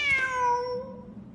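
Cat in the Genshin Impact game giving a single clear, close meow that falls in pitch and fades.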